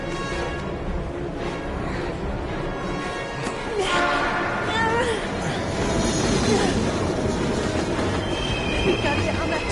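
A train rumbles past in a PS4 video game with squealing wheels and clattering cars, loud and continuous, with voices talking over it.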